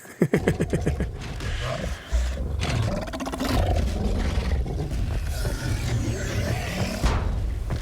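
A deep, growling creature voice from Mass Effect 3 during the Leviathan mission, rumbling and roaring continuously for several seconds with scraping undertones over a dense game soundscape, loud and close, with no talking.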